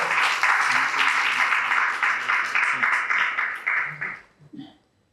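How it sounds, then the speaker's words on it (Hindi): Loud audience applause welcoming a guest speaker at a Hindi-language public event, a dense steady burst of many hands that fades out over the last second. "जोरदार तालियों से उनका स्वागत है।"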